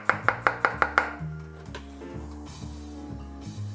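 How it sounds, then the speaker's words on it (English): A knife chops peeled garlic cloves on a cutting board, six quick sharp evenly spaced knocks up close, then quieter trailing taps over low background sound. "Just gonna give it a quick chop."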